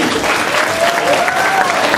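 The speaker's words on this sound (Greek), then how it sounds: "δώσουμε τα πτυχία στους επιδικότες, να τους χειροκροτήσουμε" Loud, dense applause from an audience clapping for graduates receiving their degrees at a ceremony, a sustained wash of many hands close and steady throughout.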